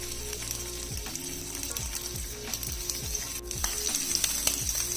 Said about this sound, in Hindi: ये जो मलाई बोटी इसको मैं फ्राई करूंगी